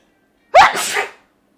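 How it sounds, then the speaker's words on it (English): A single sharp sneeze bursts out close up, loud and brief, then stops, with silence before and after. "I'm gonna sneeze"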